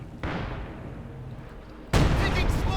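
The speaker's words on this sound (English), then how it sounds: "Field gun firing. More specifically, the divisional field gun." Two heavy booming shots from a divisional field gun in the strategy game Company of Heroes 2, the second louder and sharper, each trailing off into a rumbling decay.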